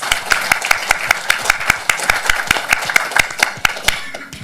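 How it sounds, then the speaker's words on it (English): A small group of friends claps for a birthday at the close of a meeting, crisp individual hand claps in a fairly regular rhythm, close and clear, fading slightly at the end. "Let's give you a round of applause."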